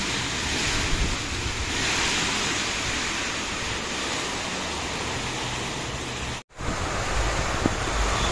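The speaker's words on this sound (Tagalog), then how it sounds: "Rinig na rinig yung ulan at yung hangin sa bubong namin." Steady roar of typhoon wind and heavy rain on a house roof, broadband and continuous, with a brief dropout near the end before the storm noise resumes.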